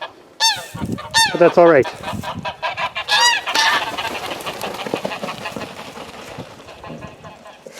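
Several loud, nasal goose honks ring out in quick bursts near the start on a small homestead, then fade into softer calls and a voice talking over them.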